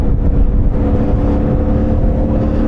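CFMoto 450MT motorcycle rear wheel spinning on loose light gravel, a loud steady engine drone with a rough rumbling texture held for the whole stretch.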